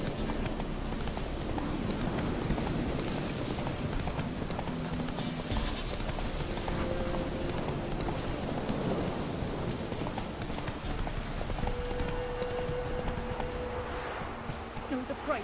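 A horse galloping through rain in The Witcher 3, hooves clip-clopping steadily beneath a continuous rain hiss with low rumbles, with faint voices mixed in.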